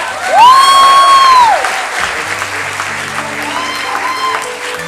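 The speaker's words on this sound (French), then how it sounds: "un tonnerre d'applaudissements, s'il vous plaît" Audience at an improv festival in Paris bursts into loud applause and cheering, a dense wash of clapping with a bright sustained whistle near the start, easing into steady clapping as a musical tone sounds.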